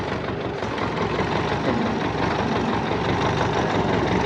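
An old imported Kubota L1 tractor engine runs steadily with a loud, continuous diesel rumble, close by and unbroken throughout.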